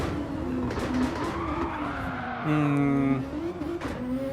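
A race car in Gran Turismo 7 brakes hard into a corner, its engine roar dropping in pitch as the tires squeal briefly, steady and close throughout.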